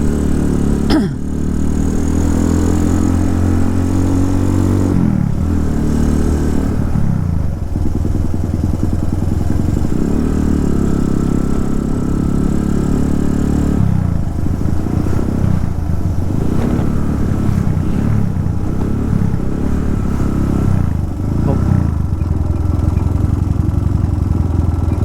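A motorcycle riding at night along a road in Bali, its engine droning close and loud with rising and falling revs as it accelerates and slows, over steady road noise.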